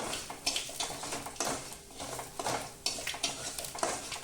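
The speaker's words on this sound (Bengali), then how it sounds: "এই ঘি আর পাঁচফোড়নটা ভাজবে দিয়ে এই তরকারিটা ওর মধ্যে দিয়ে দিতে হবে ঢেলে" Vegetables for Bengali shukto fry in ghee tempered with panch phoron in a pan, a steady close sizzle broken by repeated stirring scrapes, with no voices.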